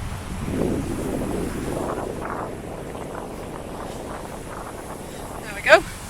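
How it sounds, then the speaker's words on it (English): Strong wind buffets the microphone on a narrowboat in a continuous rushing roar, with a brief sharp sound near the end. "it is windy."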